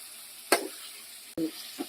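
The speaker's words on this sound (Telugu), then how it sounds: "ఈ పేస్ట్ని వేసి ఫ్రై చేసుకోవాలి" Spice paste for tomato sharwa frying in a pan, a soft steady sizzle broken by a few sharp scrapes and clinks as it is stirred.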